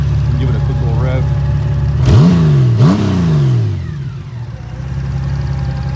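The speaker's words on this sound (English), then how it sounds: "my 2003 Honda Goldwing, guys. Give it a quick little rev." A 2003 Honda Goldwing 1800 motorcycle engine idles, then gets two quick, loud throttle blips that rise and fall sharply before settling back to a steady idle, heard up close.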